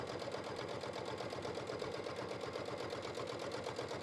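Sewing machine running steadily through soft leather, a fast, even mechanical stitching rhythm that continues unbroken and fairly close for the whole stretch, with no voices over it.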